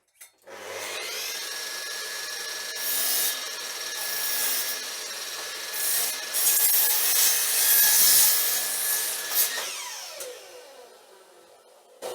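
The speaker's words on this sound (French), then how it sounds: "je vais utiliser maintenant un radial pour couper les lames qui vont me servir pour faire mon étagère basse" A radial arm saw spins up and cuts through wooden boards for a low shelf in a workshop, a loud steady whine with rough rasping as the blade passes through the wood, then winding down at the end.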